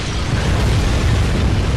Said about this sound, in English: that little explosion you saw there was those little pots